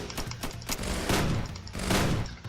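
Rapid bursts of video game gunfire during a shootout against terrorists alongside police, several overlapping volleys in close succession, loud and continuous with no talk over them.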